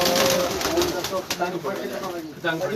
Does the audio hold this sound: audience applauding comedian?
no